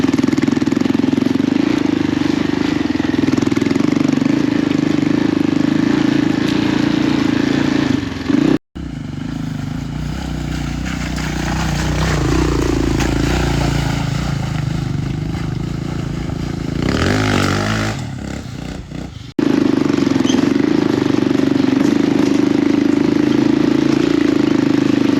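A restored agricultural quad bike engine runs steadily while driving, a loud continuous motor drone held at constant speed, briefly dipping into rougher, quieter rumbling mid-ride before returning to the same steady hum.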